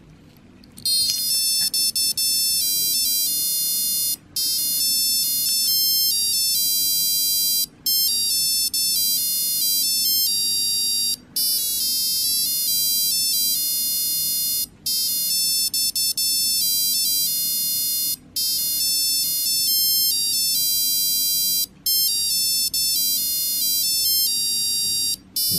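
A Soviet-made Elektronika 77A digital watch plays its alarm melodies as shrill, bright electronic beeping tunes, loud and continuous with brief gaps between repeats.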